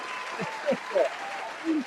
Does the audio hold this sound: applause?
yes